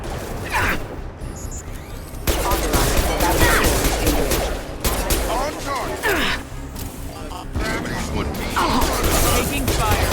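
Rapid bursts of gunfire from a Mass Effect 2 firefight, dense and continuous, with sharp crackling shots and whooshing effects layered over a low rumbling game soundtrack; a voice speaks briefly among the shots.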